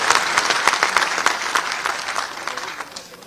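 A hall audience gives a loud round of clapping to welcome a guest at a political gathering in Rajasthan, dense and close at first, then gradually thinning and fading.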